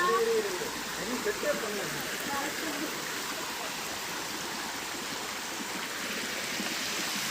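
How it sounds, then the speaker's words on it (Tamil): Waterfall in the Valparai hills, water falling in a steady broad hiss and rush, fairly faint and continuous, with a few faint bird chirps early on. "தண்ணி விழுற சவுண்டு கேட்குதா உங்களுக்கு?"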